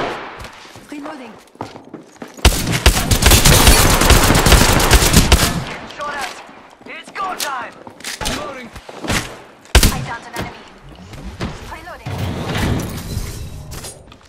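Apex Legends gunfire erupts in a loud, sustained automatic burst, then breaks into sharp scattered shots and shorter volleys, with voices talking between the firing.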